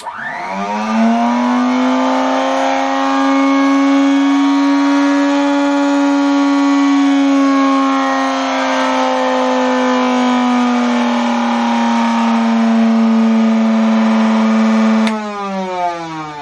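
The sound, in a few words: epidiascope motor running noisily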